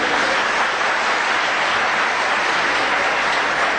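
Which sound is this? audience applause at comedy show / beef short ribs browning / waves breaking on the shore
audience applause at comedy show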